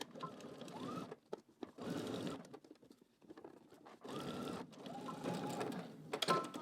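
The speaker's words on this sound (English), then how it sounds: "I'm going to back stitch at the beginning and also at the end" A sewing machine stitches a polo shirt seam with a 5/8 inch allowance, running in several short bursts separated by quiet pauses, a brisk close mechanical whirring that starts and stops.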